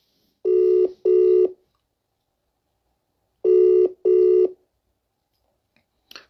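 A telephone call rings out in two loud double-ring bursts several seconds apart, each pair of buzzy tones followed by silence, with a faint click at the very end.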